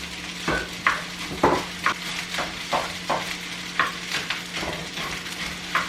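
Eggs frying in a hot pan with a continuous sizzle, punctuated by regular sharp scrapes and taps of a utensil against the pan, close and without speech.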